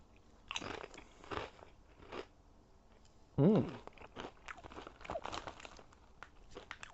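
Crunchy Lay's All Dressed potato chips bitten and chewed up close, with a loud sharp crunch near the middle amid softer chewing and rustling.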